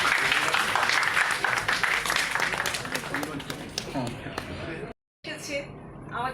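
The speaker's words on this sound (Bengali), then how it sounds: "একটু জোরে হাততালি দিন সকলে।" Audience applause at a women's day film screening event, a dense steady clapping wash that fades gradually, breaks off into silence near the end, then returns more softly.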